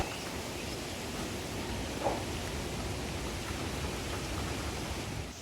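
Strong typhoon wind roars steadily across Chuuk, Micronesia, a dense, unbroken broadband rush with a brief thump near the middle and no voices.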